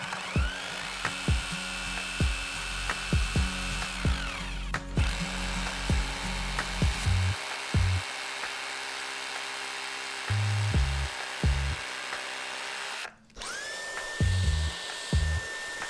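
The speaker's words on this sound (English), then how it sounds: "I'm also using my Bosch rotary hammer to drill into the concrete to allow these bolts to work." Bosch rotary hammer drilling into a concrete basement floor, alternating between long sustained buzzing runs and short repeated bursts with brief pauses, close and loud.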